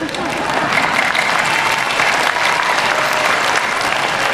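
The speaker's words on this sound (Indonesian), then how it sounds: "Tepuk tangannya gimana gitu." Loud, dense applause from an audience at a political speaking event in Indonesia, continuous clapping close up that swells briefly and stays strong throughout, with a faint murmur beneath.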